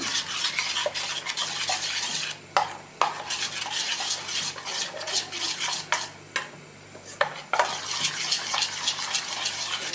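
A spoon stirring a spice mixture of salt, red chili and garam masala in a pan for khandavi bites, busy scraping and clinking strokes in quick bursts with short pauses, close and loud, no talking.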